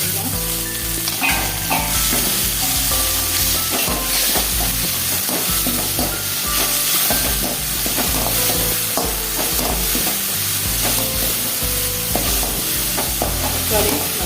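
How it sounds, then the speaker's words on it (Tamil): Chopped tomatoes sautéing and sizzling in a hot pan while making wheat rava, with steady frying hiss and repeated stirring scrapes running throughout, close and loud. "தக்காளி நல்லா வதங்கி வந்துடும்"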